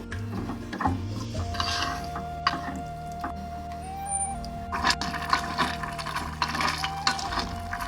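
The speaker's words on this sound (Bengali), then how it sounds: "হলুদ, কাশ্মীরি লঙ্কার গুঁড়ো দিয়ে মশলাটা খুব ভালো করে কষবো।" Spice paste with turmeric and Kashmiri chilli powder frying in a pan, with repeated scraping and stirring of a utensil against metal over a low sizzle and a persistent mechanical whir nearby.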